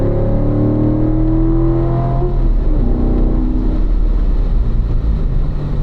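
A Corvette at racing school accelerates down a track's inner straight, its engine roaring loud and close, the pitch climbing steadily before dipping at a shift and pulling on again, with no talk.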